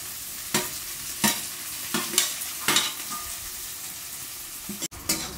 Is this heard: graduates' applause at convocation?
no